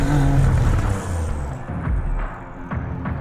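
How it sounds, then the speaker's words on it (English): A three-cylinder camless engine runs steadily, giving a loud, continuous low rumble with a slightly uneven throb that eases a little partway through. "And it does kind of sound like a 3-cylinder."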